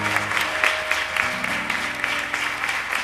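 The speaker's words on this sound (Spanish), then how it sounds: "Podemos dar un fuerte aplauso a nuestro Señor." A church congregation claps in a loud, dense round of applause at the close of a service, many hands patting steadily for a few seconds while a low musical tone lingers underneath.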